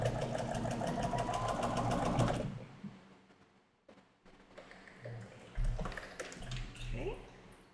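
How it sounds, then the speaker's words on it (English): A sewing machine stitches a quilt seam flat, its rapid even whirring buzz running steadily for a couple of seconds before stopping, followed by quieter handling sounds and a low hum while someone talks. "we're going to lay it flat and sew it down."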